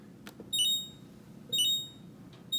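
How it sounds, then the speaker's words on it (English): A Whirlpool refrigerator control panel gives two bursts of high electronic beeps during a water filter reset, each a quick pair or triple of tones, repeating about once a second over a faint low hum. "It'll beep a couple of times"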